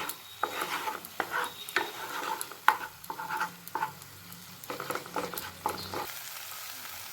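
Turmeric, salt, a little sugar, chilli powder and tomato sauce are sautéed in a pan, low sizzling punctuated by repeated spatula scrapes and taps against the metal.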